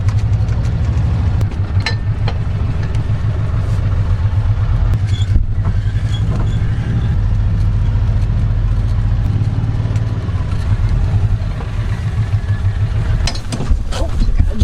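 A farm vehicle's engine runs steadily while driving, a continuous low droning rumble with clattering bumps throughout, and voices talk over it.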